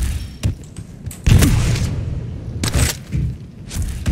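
Weapon shots and jump landings in Quake Champions, several heavy booming thuds spaced irregularly over a few seconds, loud and close with low rumbling tails.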